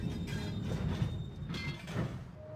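Chain lift machinery running in the video game Riven: a steady, rumbling mechanical clatter with faint squealing tones, continuous and moderately loud for the whole stretch.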